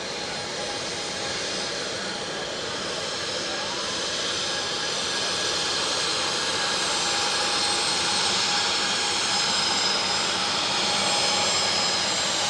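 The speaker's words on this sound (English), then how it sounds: "Pull back on the control column there, flare the aircraft." An airliner landing at Manchester Airport, a steady loud jet engine roar that builds slightly as the aircraft flares and passes close, alone with no talking.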